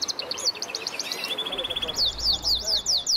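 Pet lovebirds chirp indoors in rapid, repeated high tweets, with a short sustained whistle in the middle followed by a burst of quick zigzag chirps, all close and fairly loud.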